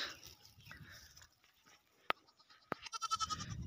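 Local-breed goats in an open grassy field give faint, wavering bleats, the calls growing closer and more insistent toward the end, with a couple of sharp clicks between them.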